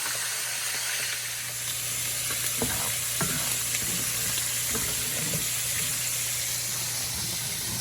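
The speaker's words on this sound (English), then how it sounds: "Oh, look at that, nice and hot sizzling." Chicken sizzles steadily in a hot buttered pan, a loud continuous frying hiss with a few soft clinks and scrapes from cookware.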